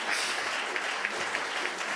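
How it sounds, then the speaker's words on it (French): Audience applause at a round-table forum on censorship, a steady dense patter of clapping filling the room for the full two seconds, fairly loud and without talk over it. "voilà, des applaudissements mérités."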